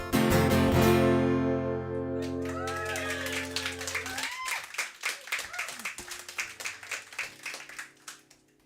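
A concert crowd in Charleston, West Virginia breaks into applause as a song's final sustained chord fades, the clapping swelling into a dense wash of many hands and then tapering off.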